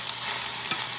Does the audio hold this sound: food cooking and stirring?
yes